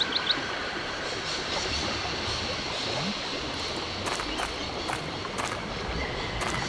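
Train ambience in the video game Syberia: a steady low rumbling rail noise with faint clickety-clack and sharp metallic ticks in the later seconds, even and fairly quiet throughout, no voices.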